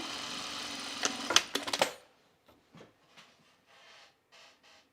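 A sewing machine edge-stitches the top of a pair of jeans in a close, steady run that stops after about two seconds, leaving faint taps and fabric handling.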